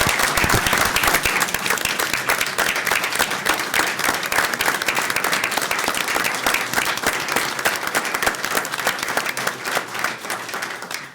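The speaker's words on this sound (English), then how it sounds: "I think we ought to give you a round of applause" An audience gives a long, dense round of applause at a council meeting, loud and sustained for several seconds before tapering off at the end.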